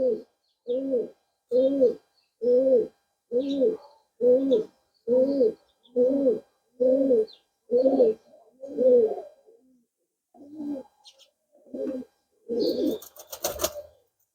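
Pigeons cooing in a steady series of about a dozen close, loud coos with short pauses between them, a few softer calls near the end and a brief fluttering burst at the close.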